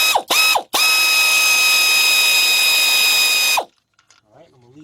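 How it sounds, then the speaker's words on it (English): Ratchet driving a 14mm deep 3/8-inch drive socket on a Kia/Hyundai timing belt idler pulley: two short clicking bursts, then a sustained loud buzzing ratchet spin for about three seconds, ending abruptly into quiet. "I'm going to get my 14mm deep 3/8 drive."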